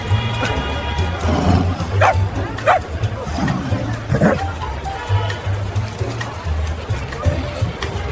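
A runaway dachshund yips and barks a few times amid a busy crowd, short sharp barks scattered over a continuous hubbub of voices and commotion, with a steady low hum beneath.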